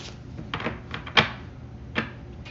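Tarot cards shuffled by hand, with a few crisp slaps and riffles standing out against a low background hum, close and irregular, the sharpest snap near the middle.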